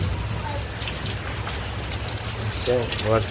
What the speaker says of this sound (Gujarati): વરસાદ ચાલુ હોય બહાર.